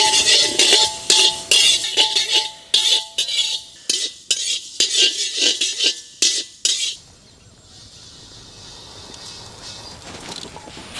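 Fenugreek seeds are dry-roasted in a pan on low heat for a chicken pickle spice mix. A spoon scrapes and clinks against the metal in repeated bursts for several seconds, then only a quiet hiss remains.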